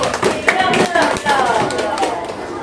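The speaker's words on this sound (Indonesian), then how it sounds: "Beri tepuk tangan untuk kelompok 1." Scattered classroom clapping for a student group in an Indonesian lesson, a few uneven hands tapping close by while voices talk over them throughout.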